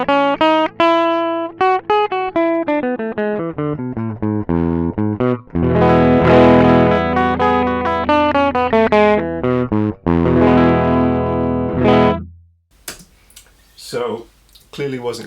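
Electric guitar with Fishman Fluence active pickups on a nearly flat battery, played through an amp so that notes come out gated, fuzzy and distorted, a run of picked notes then sustained chords, loud and close with no talking.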